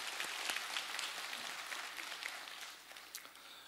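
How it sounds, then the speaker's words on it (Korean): Scattered applause from a church congregation, moderately distant, a soft patter of many hands clapping that fades slightly toward the end. "수고한 우리 자녀들에게 격려의 박수로 한번 드리도록 하겠습니다"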